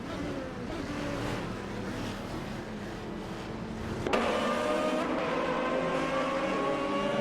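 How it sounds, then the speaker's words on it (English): Simulated GT race cars circling Mugello in a racing video game, a steady engine drone that swells around the four-second mark as a car passes close, holding a louder whine to the end; no talk. "Right now we're watching a thrilling race in a racing simulator, and it's getting intense."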